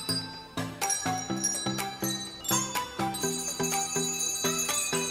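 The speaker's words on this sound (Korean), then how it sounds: "맑고 경쾌한 핸드벨" Handbells ring out in a bright, cheerful sequence of struck tones, each note chiming and ringing on as the next is played, steady and fairly loud, from a church outreach gathering in Mongolia.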